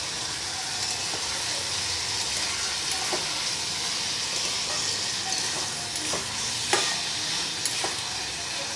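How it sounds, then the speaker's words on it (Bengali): Salted ridge gourd is stirred and fried in a pan, giving a steady close sizzle throughout with a few scraping knocks from the stirring. "দিয়ে আমি আবার ঝিঙেটা ভালো করে নেড়ে চেড়ে কষিয়ে নেব।"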